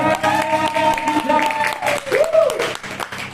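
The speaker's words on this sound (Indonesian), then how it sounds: "Beri tepuk tangan." Congregation applause at a Sunday worship service, a sustained wash of clapping from the crowd, mixed with voices and music running underneath.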